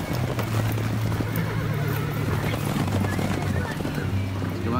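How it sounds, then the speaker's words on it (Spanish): Horses at a charro horse show in Xcaret neigh and whinny with hooves clip-clopping, loud and continuous, while people talk in the background. "Show de charros y caballos aquí en Xcaret."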